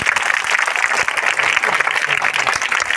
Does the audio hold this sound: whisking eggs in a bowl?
no